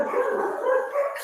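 Dogs barking and yipping indoors, a continuous excited volley lasting the whole moment, fairly close and loud, with no speech over it.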